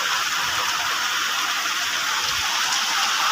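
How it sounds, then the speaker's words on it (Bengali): Heavy rain pours steadily during a rainy monsoon-season day, a dense continuous hiss of downpour on surfaces, loud and unbroken with no voices. "দেখো ঝমঝম করে এখন বৃষ্টি নেমেছে"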